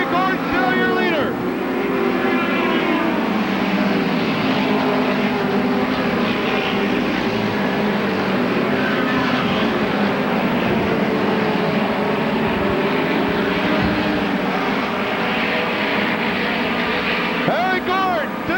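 Midget race cars roar around the track during the 1991 Belleville Midget Nationals Saturday finale, with constant dense engine noise and passing cars rising and falling in pitch, under ongoing race commentary.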